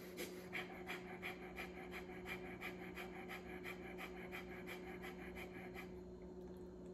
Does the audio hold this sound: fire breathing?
yes